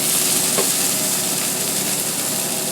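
Tuna medallions, salted on both sides, frying in hot, fiery toasted sesame oil, giving a steady, dense sizzle with a faint clink near the start and no voices.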